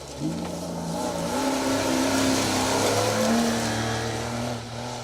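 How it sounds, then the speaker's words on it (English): A BMW 325 rally car with a 1.8 litre engine roars along a special stage at a Trackrod Rally event, its loud engine revving and rising in pitch through gear changes, sustained and fairly close. "Team Fox, Andrew and Jamie Lee in the BMW. .8 litre 325 Beamer"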